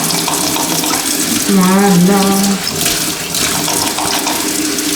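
Water runs steadily from a kitchen tap while dishes are washed with hand soap, a loud continuous rush that shifts pitch briefly as the flow hits the sink, with a brief spoken word.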